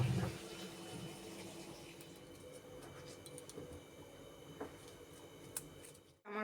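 Prawns and water lilies being squeezed and rinsed in water in a kitchen, a soft continuous sloshing and dripping with faint small clinks, fairly quiet and without voices, ending in a brief bump.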